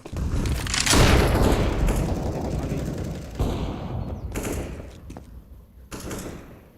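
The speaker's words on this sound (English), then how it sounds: "I am throwing a flashbang. I am throwing a grenade." Grenade and flashbang throws in the CS:GO video game, with loud game gunfire and bursts across the stretch and several sharp impacts or pops near the end.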